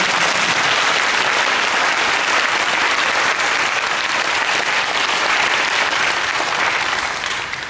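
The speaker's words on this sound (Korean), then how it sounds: "다 함께 박수로 하나님께 보내드립니다" A church congregation breaks into loud, dense applause during a worship service, a continuous roar of many hands clapping at once that holds steady for nearly eight seconds.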